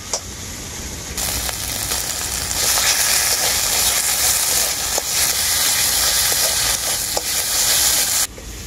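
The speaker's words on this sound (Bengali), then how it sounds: "কাঁচা লঙ্কা বাটাটাকেও আমি খুব ভালো করে ভেজে নিলাম একসাথে" Green chili paste frying together with ginger-garlic paste in a pan for doi katla, a loud, dense, steady sizzle with occasional stirring knocks, close up, swelling after the first second and easing near the end, no speech.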